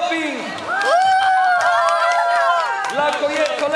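Spectators cheer and shout encouragement at the finish line of an outdoor forest run for Independence Day, with a mass of overlapping voices and whoops rising into a loud, continuous roar close by.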